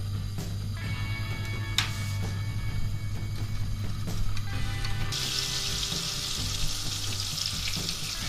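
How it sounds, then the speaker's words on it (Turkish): Butter melting in a pan for Turkish flour halva, stirred slowly, gives a steady soft sizzle with light scraping; a brighter hiss rises partway through and no one speaks. "Bunu güzelce eriyeceğe kadar şu şekilde yavaş yavaş karıştırıyoruz arkadaşlar."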